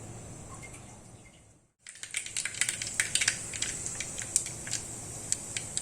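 Half a teaspoon of mustard seeds hits about two tablespoons of hot oil for sambar: a steady hiss breaks off, then dense, sharp crackling pops spatter close and loud.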